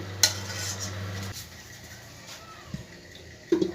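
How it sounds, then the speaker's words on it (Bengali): A metal lid clinks onto a cooking pot of soybean curry, with a few sharp, separate knocks and scrapes over a quiet, low kitchen hum. "এবার আমি একটু ঢাকনা দিয়ে দেবো"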